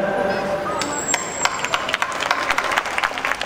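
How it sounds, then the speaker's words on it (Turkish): Applause from a small audience at a talk, a dense spatter of claps running throughout at moderate loudness with scattered sharper claps. "Şöyle güzel bir alkış alabilir miyiz?"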